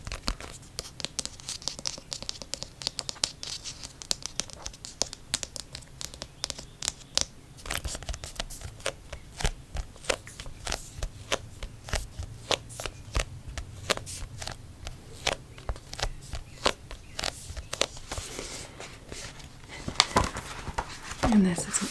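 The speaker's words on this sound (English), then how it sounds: "So I did pull a card from this Yogic Path deck as we wrap up here." A Yogic Path oracle card deck is shuffled by hand, producing a long run of quick, close, irregular papery flicks and riffles with soft scraping between them.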